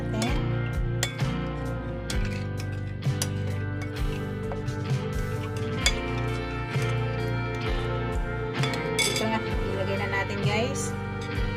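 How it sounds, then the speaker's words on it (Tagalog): A utensil stirring pork chop marinade of honey or sugar in a bowl gives light repeated clinks and scrapes, heard under a person talking. "Tapos i-mix natin."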